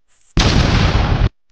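A Minecraft firework rocket fired while gliding with elytra gives one loud, sudden burst of rushing whoosh that holds for about a second and then cuts off sharply, with no voices.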